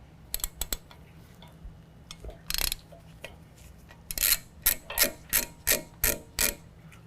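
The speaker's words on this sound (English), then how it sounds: "use a T30 Torx bit to remove this bolt from our" A ratchet driving a T30 Torx bit on a brake rotor hat bolt of a 2019 GMC Sierra 1500 clicks in scattered bursts, then settles into a steady run of sharp, close clicks.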